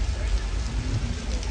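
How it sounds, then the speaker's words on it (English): Artificial rain from a studio sprinkler system on a Universal Studios Hollywood tram tour: a steady, dense patter of falling water with a low rumble underneath, continuous and close. "The water shoots directly into the air, falls down to the ground naturally, and that's how we make it rain on television"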